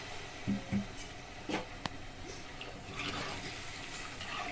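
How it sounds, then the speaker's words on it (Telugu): Water poured from a glass into a pot of tomato rice: a few short splashes early on, then a longer gushing pour that fades into quieter trickling, fairly close and without talk. "సో 3 గ్లాస్ వాటర్ వేసుకుంటాను."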